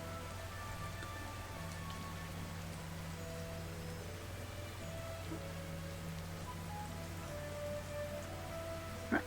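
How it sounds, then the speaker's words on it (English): Steady rain falling in Kitaria Fables, a soft continuous hiss of drops with a low hum underneath, faint and even throughout. "Of course it's raining still."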